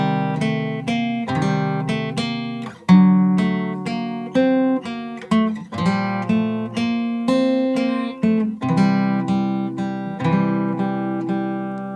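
Guitar playing a verse line of a song from Arcane Season 2, clean plucked notes ringing with sustained harmonics over a steady low repeated note, close and clear with no voices.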